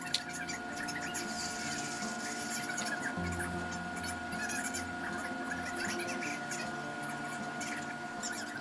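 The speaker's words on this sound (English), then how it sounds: "I'm going to sew that piece to a piece of the fabric" Sewing machine stitching seam binding onto yellow fabric, a fast, steady mechanical patter and whir running evenly throughout, close and with no voices.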